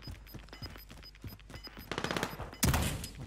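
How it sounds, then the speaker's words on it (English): Gunfire rattles in a Plunder match in Warzone, scattered distant shots giving way to louder rapid bursts of automatic fire, with a sharp, close volley near the end. "Someone's shooting."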